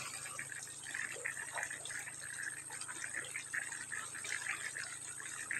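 Irrigation water flows steadily into a farm reservoir, a continuous faint gush and splash heard from a distance with no break.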